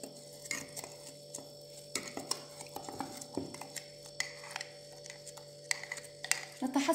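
A mixture of natural hair ingredients stirred in a bowl, light irregular clinks and taps of a utensil against the sides, quiet and close, with faint background hum and a little speech.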